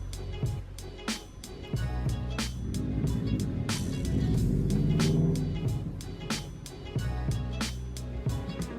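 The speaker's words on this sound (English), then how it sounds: "hold on, let the car pass" A car passes along a street outside with a broad engine and tyre rumble that swells in the middle and fades, mixed with scattered sharp knocks and rustling close to the microphone.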